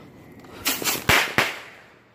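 Fourth of July firecrackers bursting outdoors, three sharp loud bangs in quick succession with a brief crackling tail after each, no voices over them.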